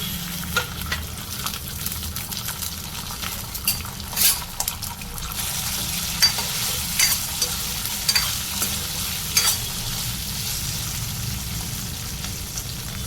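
Garlic and green chillies frying in a pan for tomato chutney, a steady background sizzle with scattered scrapes and clacks from a spoon stirring, close and fairly even throughout.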